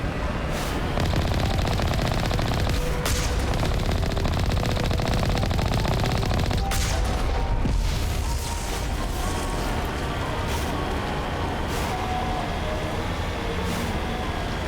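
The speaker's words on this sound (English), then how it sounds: "Oh shit, they're already shooting." Gunfire from enemies in the video game Mass Effect Legendary Edition, dense continuous rattling shots with bursts and impacts filling the whole stretch, loud and close.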